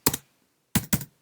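Keystrokes on a Mac keyboard entering terminal commands: one quick double tap, a pause, then two more crisp close clicks in quick succession.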